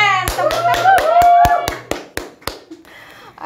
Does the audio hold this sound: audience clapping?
yes